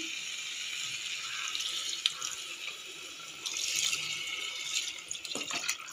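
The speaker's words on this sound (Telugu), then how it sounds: "వాటర్ అయితే వేసేసుకుంటామండి" Water poured into a pot of mutton drumstick curry makes a soft, continuous splashing and trickling, fairly faint and steady for several seconds, with no talking.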